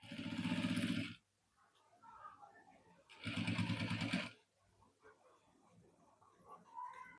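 A sewing machine stitches a coat collar onto a blouse in two loud, steady whirring runs about a second long each, separated by quiet pauses with faint handling noise.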